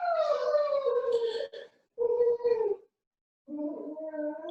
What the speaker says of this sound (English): that's one of the dogs being vocal